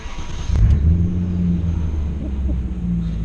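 A BMW E39 M5 pulls away for a drive, its engine giving a close, deep rumble that swells briefly as it sets off, then settles into a steady low drone.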